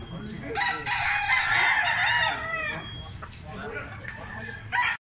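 A blue-legged stag rooster, about 15 months old and offered for sale, lets out one long, loud crow close by, followed by a short burst of noise at the end.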